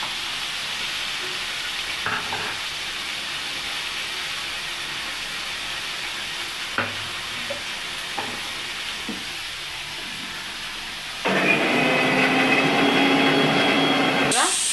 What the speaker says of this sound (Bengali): তখন আমার আলুটা ভাজা হচ্ছে